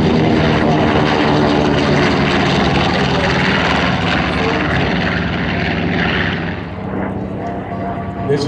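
A propeller airplane roars past at a military base airshow, a loud sustained drone close by that eases slightly toward the end while a commentator talks over it.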